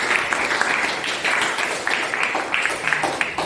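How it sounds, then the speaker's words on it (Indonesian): A school class applauds after a group presentation during an observed lesson, producing a dense, continuous patter of many hands clapping at a moderate level for a few seconds with no speech on top. "Oke, tepuk tangan lagi."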